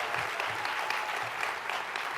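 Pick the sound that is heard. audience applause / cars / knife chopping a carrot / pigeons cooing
audience applause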